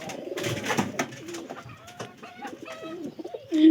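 Pigeons coo repeatedly in low, rolling phrases at a rural village market, with a few close, louder coos near the end amid scattered background bustle.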